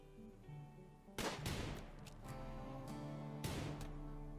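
Two sharp gunshots ring out in the Rimworld video game, spaced about two seconds apart over a steady bed of soft game music; the shots are fairly quiet and clipped rather than booming.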